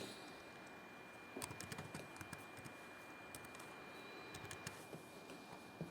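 Keys clatter on a computer keyboard as text is typed into Photoshop, a quiet run of irregular clicks and taps that bunch into short bursts at moments, with no voice over them.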